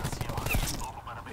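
Rapid gunfire crackles in a Call of Duty Black Ops 4 multiplayer match, dense overlapping bursts of shots at mid distance, with brief speech mixed in.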